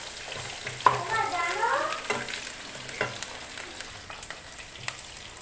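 Garlic sizzles in a pan alongside fried paneer, with a steady frying hiss broken by several spoon-stirring scrapes and clinks, close up, with no talking.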